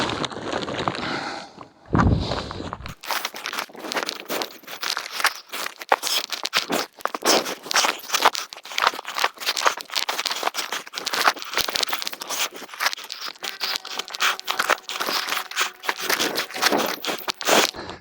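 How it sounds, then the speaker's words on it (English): Loud crinkling and crackling of a plastic pond liner being shifted and unrolled, with rapid rustles and scrapes continuing steadily after a brief pause. "There you can see the pond liner rolled out, unravelled."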